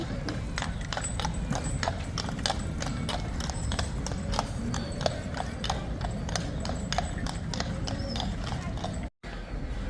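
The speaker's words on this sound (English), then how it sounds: "So we've got a horse carriage coming through." Horse carriage hooves clip-clop in a steady, brisk rhythm on pavement in Old Town Sacramento, close and clear over a busy background murmur, continuing for several seconds.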